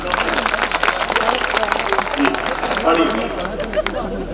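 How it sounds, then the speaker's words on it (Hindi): Audience members at an All India Mushaira poetry gathering clap in a loose, uneven burst, the claps mixed with crowd chatter and a voice talking over them. "एक बार मुझे तालियां बजा के जाना"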